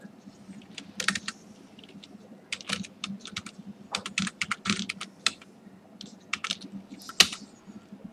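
Keys clatter on a computer keyboard in irregular bursts of quick, crisp clicks separated by short pauses, close by over a low hum, with no speech.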